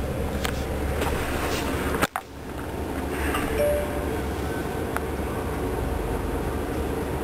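A Tesla Model S P85 electric car drives down a runway, heard from inside as a steady broadband road and wind rush with a brief thump partway through.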